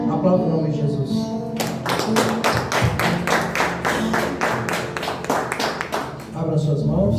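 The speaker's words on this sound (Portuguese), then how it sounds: "Aplauda o nome de Jesus." A church congregation claps in a steady rhythm of about three sharp claps per second, loud and close, over sustained tones of singing or music.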